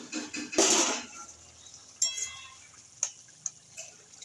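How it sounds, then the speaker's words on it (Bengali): Metal lid lifted off a cooking pot of simmering cluster figs and potatoes, a loud clattering scrape first, followed by a few light metallic clinks and taps. "এবার ঢাকাটা খুলে দেখে নেবো ডুমুর আলু সেদ্ধ হয়েছে নাকি।"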